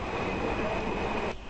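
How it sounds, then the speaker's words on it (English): Metro train in Santiago pulling into a station, a steady loud rumble of wheels and motors filling the platform, easing slightly at the very end. "fortunately the train arrived immediately, so I got inside again immediately"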